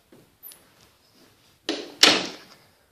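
Closet door in a cleaned, empty house, with a few faint soft knocks followed by a loud sliding thump and a sharp bang that rings out briefly.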